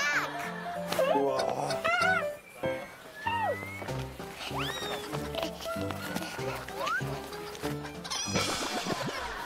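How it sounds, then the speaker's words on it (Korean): A chicken clucks repeatedly in short, choppy calls over a busy background of voices and other sounds, with people talking and exclaiming throughout. "얘 이름은 닭!"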